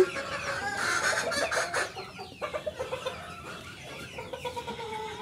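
Chickens and roosters on a duck and poultry farm, clucking and squawking loudly at first, then a run of short rhythmic clucks repeating, with no voices.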